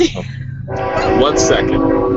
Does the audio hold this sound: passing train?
yes